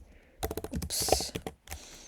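Rapid bursts of keystrokes on a computer keyboard, clattering in quick uneven runs at close range with a brief pause near the end, typed while writing Python code.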